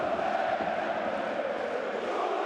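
Rot-Weiss Essen football supporters at a third-division match roar in a steady, dense wall of crowd noise that holds loud and unbroken throughout, with no single voice standing out.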